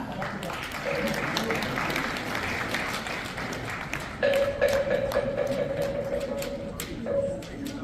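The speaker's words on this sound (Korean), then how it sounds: "먼저 성나스님의 격려사를 큰 박수로 청해 듣겠습니다" An audience at a Buddhist commemorative ceremony in a hotel hall in Seoul, Korea, applauds steadily and warmly, the clapping continuing with a few bright tonal pings and faint voices mixed in.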